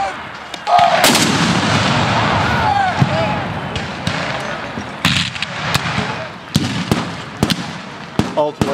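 Civil War reenactment cannon fire: a loud artillery boom opens the clip, followed by a string of sharp gunshot-like reports at irregular intervals, with voices and battlefield commotion underneath.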